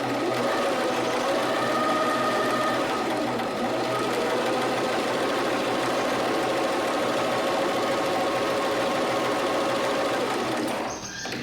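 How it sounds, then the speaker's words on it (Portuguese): A sewing machine runs fast and steady, stitching a straight seam in a continuous dense mechanical whir with rapid needle clatter, close and loud, winding down at the very end. "Se você quiser fazer uma costura mais rápido, também é possível."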